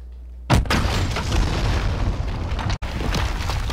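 A bomb detonates in a Call of Duty Modern Warfare Search and Destroy match with a sudden heavy boom, followed by a sustained loud rumbling roar that cuts out briefly before continuing.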